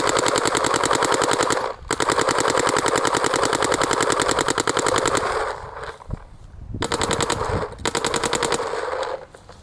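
A Planet Eclipse CS2 paintball marker fires in rapid, evenly spaced bursts, loud and close, with a couple of short pauses between strings of shots.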